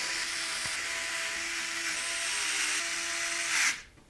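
A power driver whirs steadily at close range while fastening short radiator screws into the top of a Raidmax X603 PC case, holding a continuous high buzz for several seconds before stopping abruptly.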